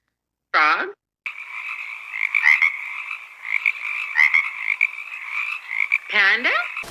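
A frog croaks in a sustained, loud trilling run that lasts several seconds. Short vocal calls come just before and just after it.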